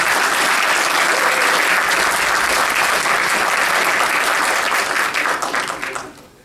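Loud, sustained applause from a large conference audience fills the room for several seconds, then thins out and fades away in the final moments.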